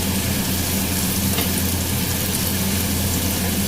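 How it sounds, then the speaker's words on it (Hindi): Crumb-coated potato fries deep-fry in hot oil, a loud, dense, continuous bubbling sizzle heard close up without pause. "ये बिल्कुल फ्राई होना स्टार्ट हो चुके हैं"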